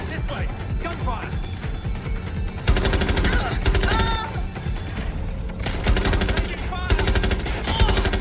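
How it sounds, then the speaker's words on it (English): Bursts of rapid automatic gunfire rattle in repeated volleys, with battle noise and voices mixed underneath in the video game Watch Dogs: Legion. "Gunfire!"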